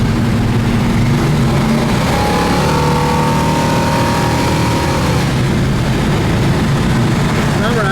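A 1970 Plymouth Satellite Road Runner tribute hot rod cruises at highway speed, its V8 engine and road roar loud and steady from inside the car, with someone talking over the drone.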